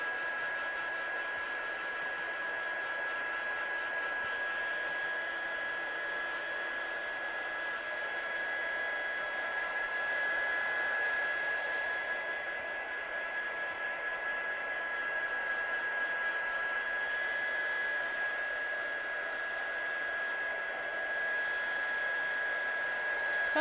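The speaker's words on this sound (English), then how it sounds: "Let's dry this off and then add more texture on top of a dried surface" A hair dryer blowing steadily to dry wet ink on a handmade card background, a continuous close whirring airflow with a steady high whine, running alone without talk.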